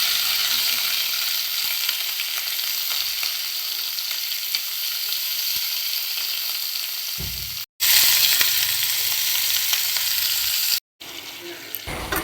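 Cucumber pieces with black cumin, salt and turmeric fry in a pan, a steady close hiss with a couple of abrupt cuts to silence and a louder burst of sizzle near the end.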